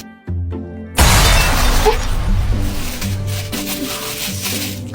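Something shatters loudly in a comedy skit, a sudden bright crash breaking over background music and lingering as scattered debris noise while the music continues.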